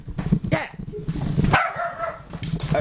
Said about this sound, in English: And the dog's coming as well.